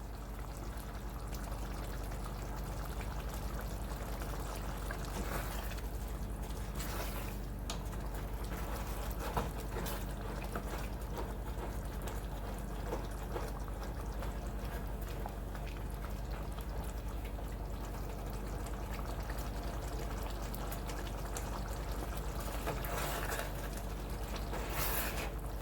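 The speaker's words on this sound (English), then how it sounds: "Let's bring it to a quick boil." A pot of veggie chili heating toward a boil: continuous soft bubbling and simmering hiss with faint popping, steady and fairly quiet, close by with no talking.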